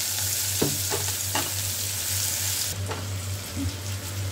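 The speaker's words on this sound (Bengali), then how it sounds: "পেঁয়াজ কুচিগুলো একটু হাফ ভাজা হয়ে এলে এর মধ্যে দিয়ে দেবো আমি টমেটো কুচি" Chopped onions sizzle in a pan, then chopped tomatoes are added, a steady close frying hiss broken by a few spoon scrapes and stirring clatters, with a low hum underneath.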